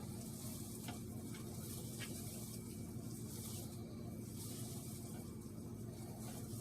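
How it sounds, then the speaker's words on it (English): Ground beef burger meat browns in a pan, giving a soft, continuous sizzle with faint scraping touches, quiet and even throughout. "we're going to get to browning this burger"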